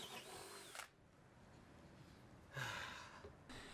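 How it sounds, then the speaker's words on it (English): Faint whirring of a power drill boring holes in the bottom of an old whiskey barrel, in two short bursts with a quiet pause between, close by and without talk. "I drill holes on the bottom for water to escape."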